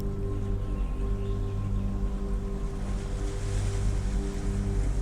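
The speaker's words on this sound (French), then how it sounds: "en contrebas, les vagues viennent s'écraser doucement contre les rochers." Waves washing gently against rocks below a cliff in the Clair Obscur video game, a steady low surf rumble with soft wind, distant and even, rising slightly near the end.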